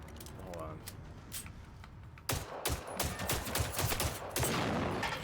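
Robots in the video game Generation Zero open fire, a burst of gunshots and rattling impacts growing louder and denser partway through, mixed with game noise and a person talking over it.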